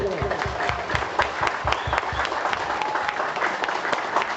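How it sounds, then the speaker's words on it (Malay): Crowd applause at a home opening ceremony, many hands clapping in a steady, fairly loud patter, with a few sharper individual claps standing out near the front. "Boleh saya mohon satu tepuk tangan paling kuat sekali untuk Tuan Haji Rahim."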